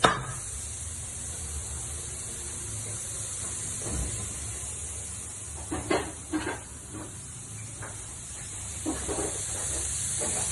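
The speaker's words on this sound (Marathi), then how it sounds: "आता हे आपण भाजून घेऊ, मस्त लालसर भाजून घ्यायचे" Two finely chopped onions dry-roasting on a hot griddle give off a steady hiss, broken by a few soft scraping clicks of stirring partway through.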